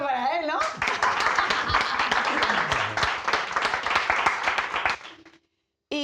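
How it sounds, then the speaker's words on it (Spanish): An audience applauds a guest in a Spanish-language film event setting, with dense clapping swelling for about four seconds and then fading, while a voice speaks briefly before it starts. "Un aplauso para él, ¿no?"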